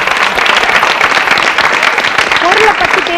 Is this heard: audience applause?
yes